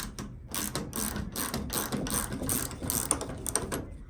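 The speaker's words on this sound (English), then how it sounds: "12mm gear wrench, very popular tool." A 12mm gear wrench ratchets steadily while backing out shipping bolts from the rear of an LG washer, its rapid close clicking running continuously without pause.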